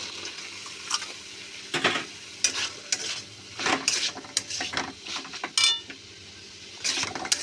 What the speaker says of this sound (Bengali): দেখো মশলাটা তেল বেরিয়ে গেছে, আমি এবার চাল কুমড়োটা দিয়ে দেবো।